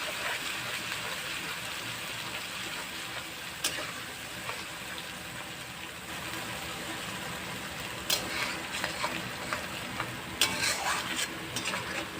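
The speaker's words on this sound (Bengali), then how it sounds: "ভালো করে কষে নেব" Poppy seed and melon seed paste sautéing in a pan for a coconut katla fish curry, a steady close sizzle with occasional stirring scrapes throughout, no talk.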